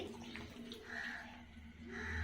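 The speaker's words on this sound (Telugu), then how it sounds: "చింతపండు నీళ్ళు అయితే పోసేసుకుందామండి" Tamarind water pours in a steady, soft gush into a simmering snake fish curry, a continuous watery wash with no break.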